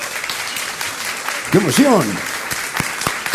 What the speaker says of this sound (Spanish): El aplauso para esos chicos